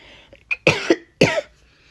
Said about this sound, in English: Excuse me, y'all, I got a cough.